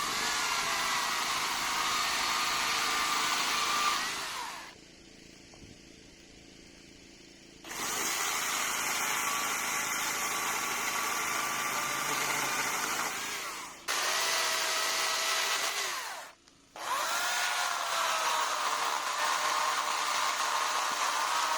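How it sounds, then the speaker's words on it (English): A chainsaw cuts up a long pole into pieces, a loud buzzing whine that runs in three bursts separated by short quiet gaps where the engine drops to idle. "And now I'm going to chop it up with the chainsaw and make it nice."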